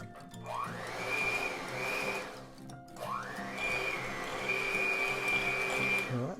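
An electric mixer creams cinnamon roll batter with vanilla extract, motor whining up to a steady high pitch in two runs with a brief pause between, loud and close.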